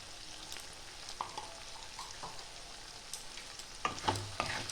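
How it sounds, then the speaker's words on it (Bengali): Spice masala with chilli and cumin powder fries in a pan for a Bengali stingray curry, making a faint, low sizzle broken by occasional stirring scrapes and clinks, louder toward the end. "এবার মশলাটাকে আমি ভালো করে কষিয়ে নেব"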